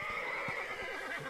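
A horse in the video game Red Dead Redemption gives a loud, drawn-out whinny, with a few hoof clops faintly beneath.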